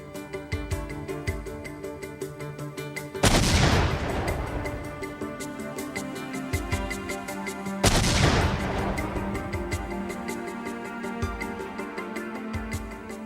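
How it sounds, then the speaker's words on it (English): Two loud, sharp detonations of recreated pipe bombs, sealed pipes packed with powder, burst about four seconds apart, each trailing off in a rumbling decay over a steady background music bed. "Specialists recreated and detonated the bombs."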